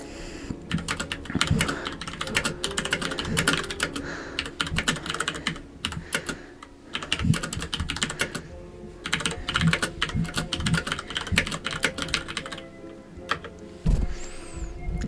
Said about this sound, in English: can you hear the keyboard? Because I think I worked around the noisy keyboard.